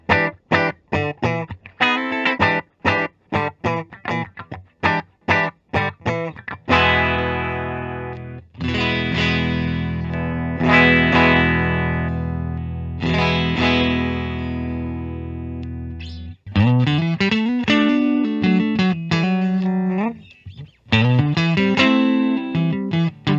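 Fender Player Plus HSS Stratocaster electric guitar played through its bridge humbucker, a 2021 model, with bright distorted chords and riffs under chorus-like effects, mixing choppy strummed stabs with sustained ringing passages, loud and close, no voices.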